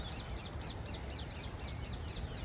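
Birds chirp repeatedly in a quick, regular series over a steady low rumble of background noise, close and clear, at a potato field being irrigated.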